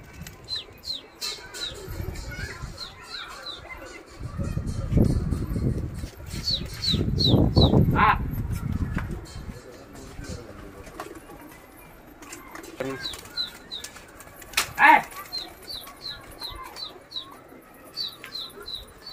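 Wings flap in soft bursts as pigeons take off, with repeated chirps and squeaks from birds nearby throughout.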